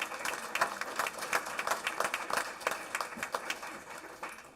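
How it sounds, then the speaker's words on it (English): A crowd at a board meeting applauds steadily, many hands clapping in a dense, continuous patter at moderate volume with no talking. "Let's give her a big round of applause."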